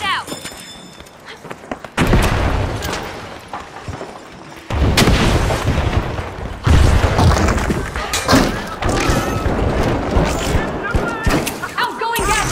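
Heavy booms and thuds from a frag grenade and surrounding combat in the video game THE FINALS, several loud blasts with rumbling tails over continuous gunfire, with voices calling out beneath.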